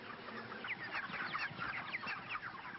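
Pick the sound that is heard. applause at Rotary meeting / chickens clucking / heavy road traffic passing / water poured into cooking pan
chickens clucking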